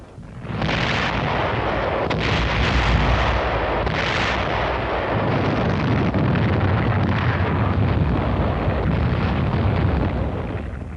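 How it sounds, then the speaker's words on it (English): Artillery backed by tanks pounds enemy defensive lines on Okinawa in wartime, a loud, dense roar of overlapping booms and blasts that rumbles on without pause, with no voices. "Artillery, supported by tanks, went to work on the enemy's defensive line."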